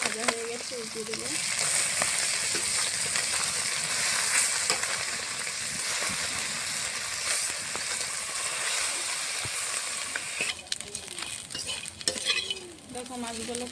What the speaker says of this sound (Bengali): মাছটা সাথে ভাজা হয়ে গেছে, উঠিয়ে দেবো।